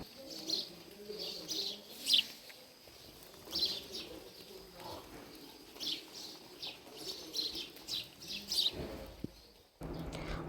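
Birds chirp in repeated short bursts outside a hotel room window at Mainpat, Chhattisgarh, a soft cooing mixed in over quiet morning ambience.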